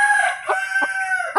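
A mother hen with her chicks at feeding time gives a few short, regular clucks over a sustained, nasal call, close and fairly loud.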